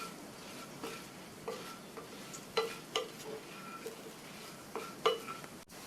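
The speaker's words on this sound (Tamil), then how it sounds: "இப்போ எல்லாம் நல்லா ஒன்றா மிக்ஸ் ஆகிற மாதிரி கலந்து விட்டுறலாம்." Spoon stirring potatoes with coriander powder, salt and spices in a pan for a lunchbox potato dish, giving a soft scraping shuffle with a few sharper clinks and scrapes against the pan over a faint background; no one talks.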